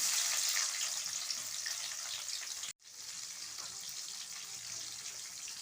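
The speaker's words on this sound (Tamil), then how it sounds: "கடுகு பொரிஞ்சதையும் கடலைப்பருப்பு, உளுந்து பருப்பு, அடுத்து நம்ம வரமிளகாய் போட்டுடலாம்" Mustard seeds, chana and urad dal and dried red chillies frying in hot oil for capsicum wheat rava upma, a steady close sizzle and crackle with one brief cut partway through.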